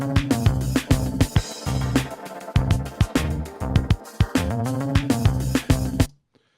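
Short electronic music groove built from four tracks: a sustained pad, punchy drum beat, small bass line and a vocal-style pad, playing loudly and rhythmically before cutting off abruptly at the end.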